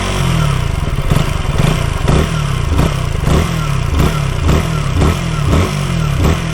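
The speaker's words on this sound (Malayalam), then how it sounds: "സ്റ്റാർട്ട് ചെയ്യുമ്പോൾ ഒരു ടിപ്പിക്കൽ KTM സൗണ്ടാണ്." KTM Duke 160 motorcycle engine running loud and close, a rhythmic throbbing exhaust note with regular pulses that keeps a steady idle-like beat throughout.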